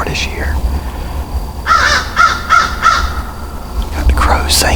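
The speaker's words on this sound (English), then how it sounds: "Got the crows singing everything." Crows caw at daybreak on a cold morning, a run of about four harsh calls close together midway through, with another caw near the end over a low steady background rumble.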